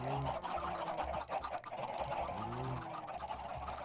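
Dozens of chickens, likely more than sixty, packed inside a fenced pen in a video game, producing a dense, continuous chorus of overlapping clucks and squawks close by with no talk.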